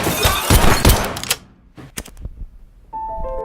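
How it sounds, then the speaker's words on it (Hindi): Gunfire from a Korean gangster film scene, a dense rapid burst of loud shots in the first second and a half, then a few separate sharp cracks, ending in a sustained tonal hum. "हान यहाँ पर उसके साथ धोखा करने के लिए मंचोल को गोलियों से भून देता है।"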